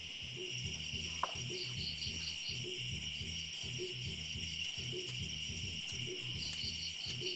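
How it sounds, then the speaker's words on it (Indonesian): Crickets chirp steadily in a pulsing, continuous chorus, with a high constant insect drone over low rhythmic trills throughout; no talking. "Itu jangkriknya Pak Kurumen itu."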